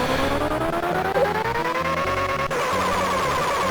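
Out Run on the Commodore Amiga, its car engine a loud, continuous synthetic drone that climbs steadily in pitch like an accelerating motor, with a sharp shift near the end, layered over chiptune music with no talking.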